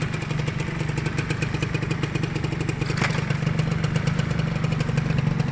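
Old Honda Nova Dash five-speed motorcycle running at a steady idle nearby, a continuous low rumbling putter with rapid regular pulsing and one brief sharper click partway through, no voices.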